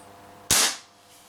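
A single sharp crack from an Umarex Cowboy Rifle air rifle firing a pellet, one close, loud shot that decays quickly into quiet.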